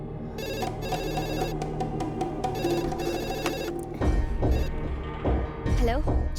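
Landline telephone ringing in a repeating electronic ring pattern in a Hindi-dubbed film scene, fairly loud and steady, with a burst of other sound near the end.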